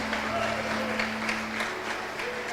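A church congregation claps together in steady, dense applause that fills the hall, over a low sustained hum, with faint voices mixed in.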